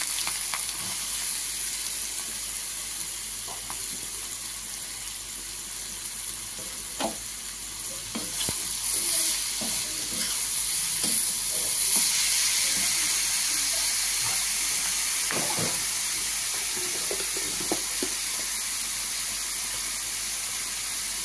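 Green chillies and papaya sizzle and hiss steadily in a hot frying pan, with scattered scrapes and clinks of a spoon stirring through. The frying stays close and constant, and no one talks over it.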